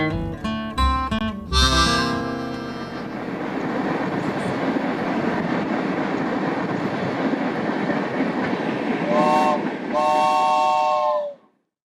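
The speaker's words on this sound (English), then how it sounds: "Deschutes Canyon train chugging down the railroad track" A train runs down the railroad track in Deschutes Canyon with a loud, steady clackety-clack rumble. A sharp horn blast sounds at the start and two more horn notes come near the end, then it cuts off.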